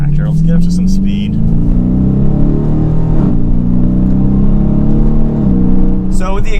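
A 2022 Dodge Challenger R/T with the 5.7-liter V8 and automatic transmission accelerates steadily, its engine note rising in pitch with a brief dip at a gear shift, loud and close from inside the cabin.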